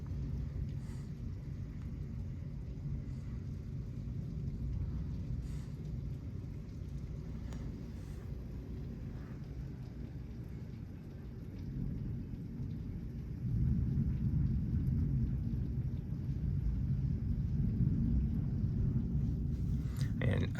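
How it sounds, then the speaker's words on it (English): Wind-blown rain pours during a Houston thunderstorm, a constant hiss and low rumble that grows louder partway through, with a person talking over it now and then. "I think you can see the way the rain is coming down."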